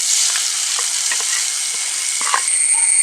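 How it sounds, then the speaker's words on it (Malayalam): Grated coconut tempering for a Kerala pumpkin and cowpea erissery sizzles loudly and steadily in hot oil, with faint stirring clinks and scrapes of a spoon in the pan. "അപ്പോൾ നമുക്കിനി നമ്മുടെ എരിശ്ശേരിക്ക് ഇതങ്ങ് താളിക്കാം."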